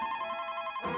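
A telephone rings with a steady electronic tone that stays loud and continuous, then swells slightly near the end, with no talking over it.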